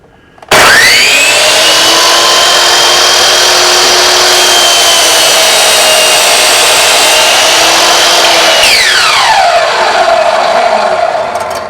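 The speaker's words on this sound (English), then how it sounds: "So let's watch it cut through this piece of 2x4 it's clamped in." A miter saw fitted with a laser guide spins up and slices through a clamped 2x4, a loud steady whine holding for about eight seconds before winding down as the blade slows, with no voices.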